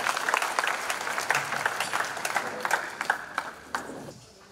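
A church congregation applauding together, dense rapid clapping that stays strong for several seconds, then thins into scattered claps and fades out near the end.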